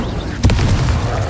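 Incendio fire spell cast in the Hogwarts Legacy video game, a sharp close burst with a booming low thump that rumbles on under continuing game noise.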